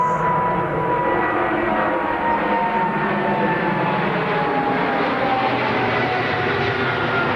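Boeing 777 with GE90 engines at Heathrow, a steady broadband jet roar holding loud and unbroken throughout with a faint high whine running through it, no voices.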